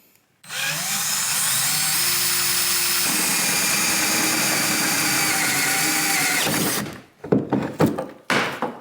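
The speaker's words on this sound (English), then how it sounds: "Just keep on drilling along the line, and then that way you can get the piece out." A loud drill runs continuously for about six seconds, close by, cutting along a line in a plastic sit-in kayak, before stopping. A few hollow knocks and thumps follow.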